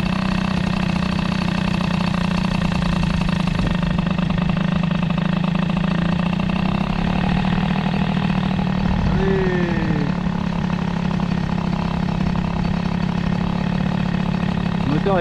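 Peugeot 103 moped fitted with an Airsal 65 air-cooled kit, running at a steady loud idle with a dense, rasping two-stroke drone throughout, close to the microphone.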